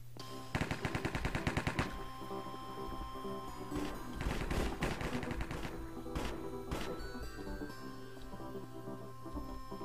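Rapid gunfire from a shotgun in the Minecraft cops-and-robbers game mode, a burst of closely spaced loud shots early on followed by scattered blasts and crashes over a steady background hum.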